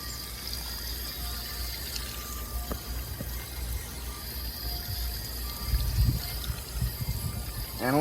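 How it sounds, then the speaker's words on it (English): Garden hose at reduced pressure rinsing cleaner from a K&N air filter for a 2018 Chevy Colorado 3.6, a steady hiss of spraying water with a few splashes and knocks near the end. "I don't have full pressure on this hose either."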